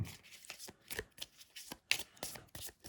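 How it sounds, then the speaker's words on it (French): Small Mademoiselle Lenormand Collector cards are shuffled by hand up close: quiet, rhythmic riffling bursts that repeat about every half second. "Alors les cartes sont beaucoup plus petites, donc pour mélanger, ça m'a surpris."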